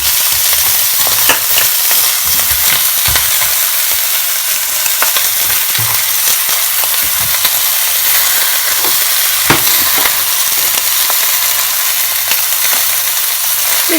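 Steady crackling sizzle of chopped onions frying in a pressure cooker with lamb, with occasional scraping stirs and clinks, continuous and fairly loud throughout.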